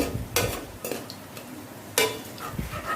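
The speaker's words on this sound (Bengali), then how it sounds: "গ্যাসটা লো করে দিয়ে এবার এই বন্দিগুলো ভেজে নিতে হবে একটু হালকা ব্রাউন হবে" Boondi for motichur laddu frying in oil over low heat, a steady soft sizzle punctuated by several sharp metallic clinks of a slotted spoon against the pan.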